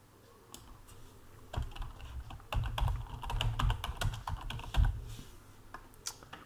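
Typing on a computer keyboard, with irregular clusters of close, crisp key clicks and taps that speed up in the middle, no talking.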